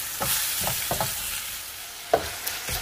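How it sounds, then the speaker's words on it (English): Ground beef with dehydrated minced onion cooking in a pan: a soft steady sizzle, broken by several distinct scraping stirs of a utensil at irregular intervals, fairly close and with no talking. "Now I'm just going to work that in and cook the ground beef"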